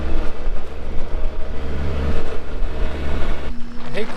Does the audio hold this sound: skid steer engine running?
yes